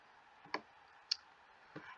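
Three sharp, quiet computer mouse clicks, spaced roughly half a second apart, with nothing else around them.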